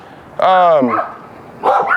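Dogs give a couple of excited barks at a house property, loud and close, one sharp harmonic bark followed by another after a short pause.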